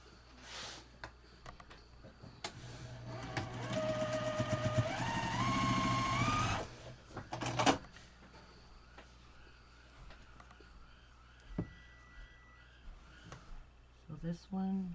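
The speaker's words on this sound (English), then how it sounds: "So we will sew these two together." A sewing machine runs in one steady burst of stitching, rising slightly in pitch, as quilt block pieces are joined; quiet talk surrounds it before and after.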